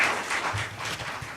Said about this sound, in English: So I think we need to give them a round of applause.